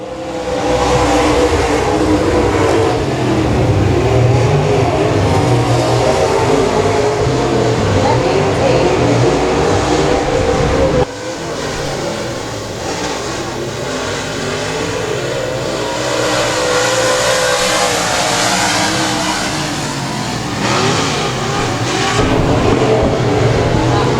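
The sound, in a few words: dirt track race car accelerating on throttle off turn 4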